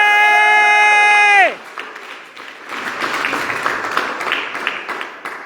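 An audience applauds candidates at a French evening event with a burst of crowd clapping and a few scattered cheers. It starts abruptly after a sustained tonal chime and grows fuller, continuing to the end.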